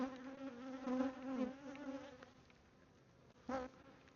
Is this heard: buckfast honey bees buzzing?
yes